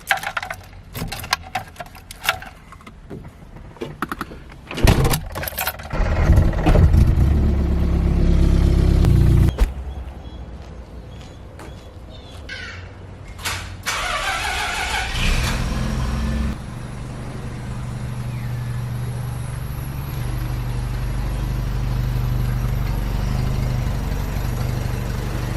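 A 1975 Mini car, with handling clatter and clunks first, then the engine cranking and catching into a loud, rough rumble that settles to a steady idle with no voices.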